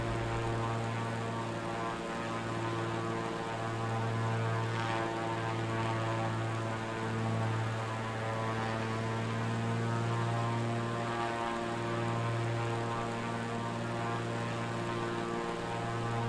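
A propeller airplane engine in Microsoft Flight Simulator drones with a steady, even hum that runs the whole time, throbbing slightly, with no talking.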